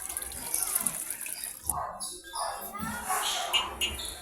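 Water poured over cleaned milkfish being prepared for salting, splashing and rushing in uneven bursts near the listener while people talk over it.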